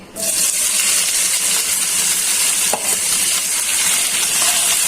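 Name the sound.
bitter gourd and potato frying in oil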